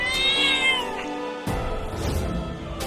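A small cat meows loudly and close by, one drawn-out, rising-and-falling cry followed by a rougher second call, with no talking.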